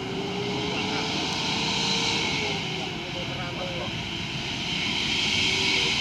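A heavy tronton truck from the ANS fleet roars through its exhaust, a loud, steady, close engine rumble that runs the whole time while voices talk over it.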